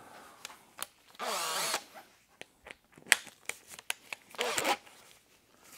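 A handheld drill spins a brand-new wool polishing bonnet with Plastic X polish while restoring foggy plastic headlights, giving short close whirring bursts separated by quieter handling and clicking noises.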